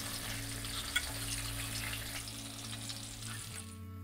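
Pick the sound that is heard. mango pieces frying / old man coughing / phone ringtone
mango pieces frying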